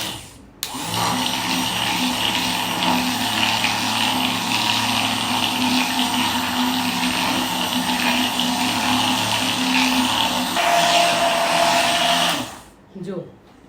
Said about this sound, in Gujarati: હવે આને આપણે બ્લેન્ડરથી બ્લેન્ડ કરી લઈશું